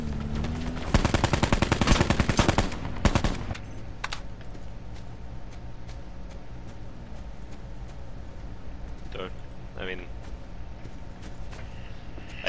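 Rapid machine-gun fire from a Call of Duty: Black Ops 4 match rattles loudly in a fast continuous burst for the first few seconds, then gives way to quieter game ambience with a few faint distant shots.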